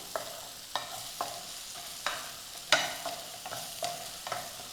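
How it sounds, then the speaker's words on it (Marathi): Softened tomatoes for a cashew curry gravy are mashed and stirred in a pan, giving about ten separate scraping strokes at an uneven rhythm over a faint, low sizzle, close and fairly quiet, with no talk. "आता आपल्याला फक्त हा टोमॅटो थोडा थोडा मॅश करून घ्यायचा आहे"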